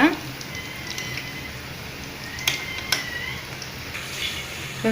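Bitter gourd slices fry in hot oil for chips, giving a steady soft sizzle with a few sharp clicks and clatters, while a voice talks over it.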